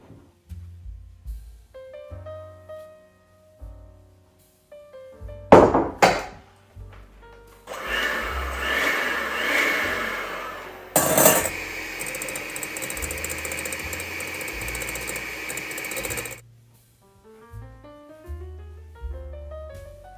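An electric mixer whips egg whites into stiff foam for the glaze on Easter paska, running steadily and fairly loudly for about nine seconds in the middle. Quieter clicks and handling sounds come before and after it.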